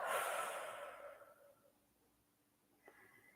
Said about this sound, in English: deep breath in and out